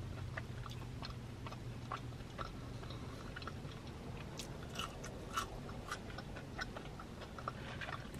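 Wendy's natural cut French fries being chewed, soft biting and mashing close to the mouth with scattered faint crunches and clicks, steady and quiet with no speech.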